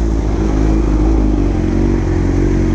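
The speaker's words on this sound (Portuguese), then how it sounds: "esse escape full que eu coloquei aqui recentemente, ó, que é o coletor mais ponteira" A Honda Hornet motorcycle fitted with a G-Scape full exhaust, header plus tip, idles and revs nearby, a loud steady throb with slight rises in pitch and no talk over it.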